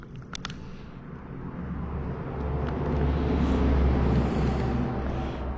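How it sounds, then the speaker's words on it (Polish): Cars go by at a moderate distance as a low rumble that swells over a few seconds and then fades slightly, heard against quiet outdoor surroundings with a couple of faint knocks early on. "Tu samochody słychać."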